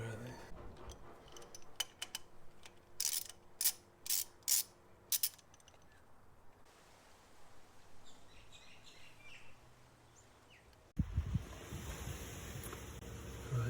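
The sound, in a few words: ratchet loosening ignition coil bolts on a Toyota Tarago engine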